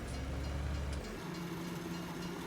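A train rolls past in the video game Farming Simulator 19, a steady low rumble and engine drone that shifts in tone partway through, heard on its own without talk.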